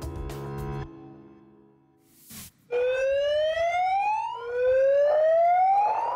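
Flood sirens blare across a Russian area near the Kazakhstan border, rising in long ascending wails that repeat after a brief burst of other sound at the start, loud and sustained.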